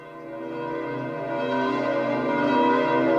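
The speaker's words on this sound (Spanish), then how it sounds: "Mientras escuchamos el tañido de las campanas de la Basílica de San Pedro" Church bells of St. Peter's Basilica in Rome ring out with rich, sustained overlapping tones that swell slightly louder over a few seconds, heard alone without talk.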